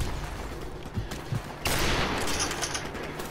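R700 rifle gunfire in Call of Duty 4: Remastered: a sharp, loud report bursts in partway through and rings out over a dense, noisy battlefield backdrop, with faint earlier pops.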